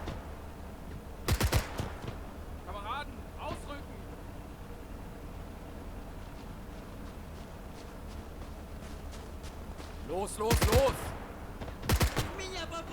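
Gunfire erupts in the WWII real-time strategy game Gates of Hell during a German campaign battle: sharp loud bursts of rifle and machine-gun fire early on, then a quieter background, then repeated volleys near the end.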